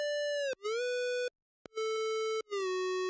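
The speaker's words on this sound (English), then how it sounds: "they are just square wave leads with this portamento on" A synthesizer square wave lead with portamento, bright buzzy tones gliding between pitches in a few sustained phrases broken by short gaps, heard alone and fairly clear.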